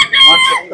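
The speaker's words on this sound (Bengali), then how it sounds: "এখানে কিছু শৌখিন মুরগি আছে" Fancy hobby chickens at a stall in a livestock exhibition in Dhaka: one short, loud, close fowl call with a clucking, crow-like tone, heard on its own.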